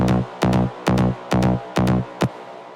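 A trance bass loop built in FL Studio for an Indian trance track, six loud, punchy synthetic bass hits in a repeating short pattern, each with a sharp onset and brief decay, alone without talk.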